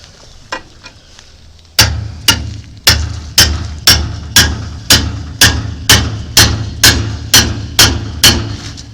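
Repeated hammer blows on a chisel against a 1966 Ford Mustang brake drum ring out loud and close, a few lighter taps giving way to a steady run of sharp metallic strikes about every half second.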